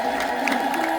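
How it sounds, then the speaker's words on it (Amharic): A church congregation ululates and cheers together in celebration at an Ethiopian Orthodox saint's feast in Kampala, Uganda, a dense, sustained crowd sound with high trilling voices throughout. "እስኪ ለጉባኤው ድምቀት የሚሆን እልልታችሁን እንስማ"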